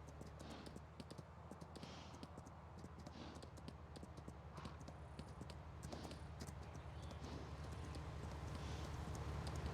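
A horse's hooves clip-clop in a quick, steady rhythm in Farming Simulator 19 on the Alpine map, faint and continuous over a low background hum.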